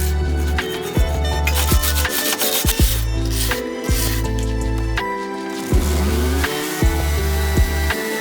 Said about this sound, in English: continue sanding these flat areas